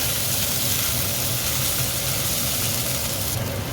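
Onions and small peppers sauté in a pan for a Turkish olive-oil green bean and potato dish, giving a steady, dense, close sizzle that holds evenly throughout with no voices.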